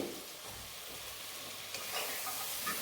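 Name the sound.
ridge gourd and dried chillies sizzling as added to hot pan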